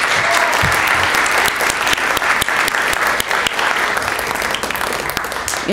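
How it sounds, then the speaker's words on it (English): A big round of applause for teachers during Teacher Appreciation Week in an art class setting, dense sustained clapping from a crowd, loud and continuous throughout. "if we could give them all a big round of applause"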